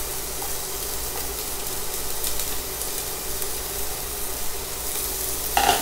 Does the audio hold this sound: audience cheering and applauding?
no